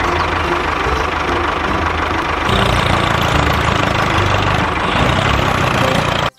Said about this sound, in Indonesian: Wow, di sini ada traktor.